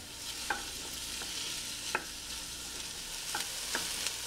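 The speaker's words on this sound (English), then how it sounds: "Give it a good stir. And we're going to saute these until they start to soften." Garlic and vegetables sauteing in a soup pot, a steady soft sizzle running throughout with a few sharp clinks of a spoon stirring against the pot, fairly close and moderately quiet.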